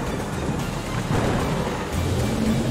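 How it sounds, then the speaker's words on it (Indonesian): Thunder from lightning amid dark storm clouds rolls as a loud, continuous low rumble mixed with rain noise, with no voices. "Kilat menyambar di tengah awan hitam yang bergolak."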